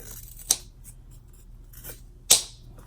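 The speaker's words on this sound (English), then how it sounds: "Okay, I'm going to cut over here." Scissors cutting fabric for a top zip bag, heard as two sharp, close snips about two seconds apart, with faint softer sounds in between.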